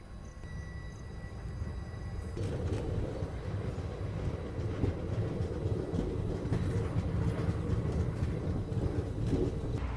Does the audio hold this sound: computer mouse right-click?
no